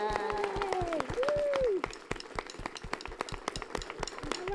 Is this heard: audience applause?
yes